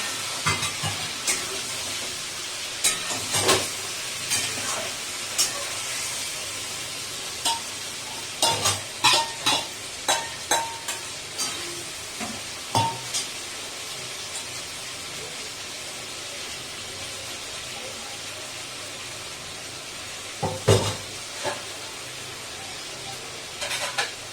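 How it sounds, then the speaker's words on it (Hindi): Marinated chicken frying in a pan with browned onions, a steady soft sizzle and hiss broken by repeated scraping stirs of the spoon, heard close and fairly quiet. "तो प्याज थोड़ा ब्राउनिश हो गया है तो मैं अपना मैरिनेट किया हुआ चिकन प्याज में डाल दूंगी"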